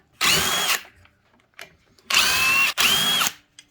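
A power drill removes screws from the body of a Burromax mini bike: three close, loud high whirring bursts with short gaps, plus a brief faint mechanical click between them.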